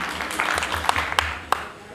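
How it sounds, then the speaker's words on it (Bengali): Scattered audience clapping at a cultural group's anniversary gathering, a few sharp distinct claps over a low murmur and room hum, brief and modest rather than a full ovation. "একটা জোরে করতালি"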